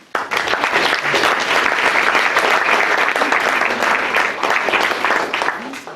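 An audience breaks into sustained, loud applause to welcome Dr. Livingston as he takes the stage, clapping steadily for several seconds before tapering off at the end.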